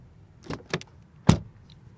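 A BMW X2 is closed with keyless entry: a few short mechanical clicks and latch sounds, then one firm door thud, heard close in a quiet setting.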